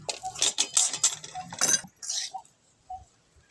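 Roasted green peas pounded for a quick chutney cooked over a wood-fired stove, giving a run of clinking, knocking strikes in the first two seconds, then a few softer isolated taps, close and moderately loud with no talk.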